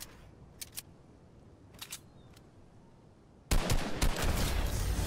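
A sniper rifle fires in the video game Fortnite: a few faint clicks, then a sudden loud blast followed by a sustained roar of gunfire and rumble to the end.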